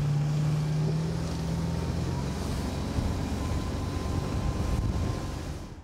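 Brand-new 22-foot 2014 Danalevi Furina motorboat underway on the water, a steady close engine drone mixed with wind and rushing water.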